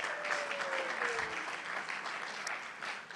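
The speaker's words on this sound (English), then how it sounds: "Let's have a big round of applause." An audience applauds musicians at a Sunday church service, a steady wash of clapping throughout at a moderate distance, with no talk over it.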